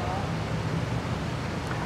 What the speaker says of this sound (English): the wind is vicious today, so there will be a lot of stops and starts and editing to cut out the wind.